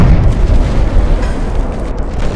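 Naval gunnery battle in Ultimate Admiral: Dreadnoughts as a cruiser is hit: loud, dense, continuous rumbling booms of shell explosions overlapping one another with no pause, heavy in the low end.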